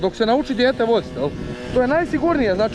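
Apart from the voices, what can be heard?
No everyday noises stand out.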